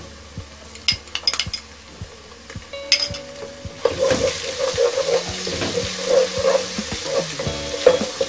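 Garlic and ginger paste sizzles and fries in a hot pan with whole garam masala, with a spoon stirring and scraping against the metal in bursts.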